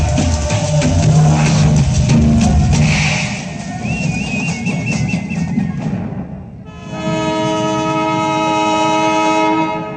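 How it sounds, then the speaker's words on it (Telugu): A departing train rumbles and clatters loudly nearby, then a long sustained horn sounds over the rolling noise. "అయ్యో ట్రైన్ కదిలిపోతుంది."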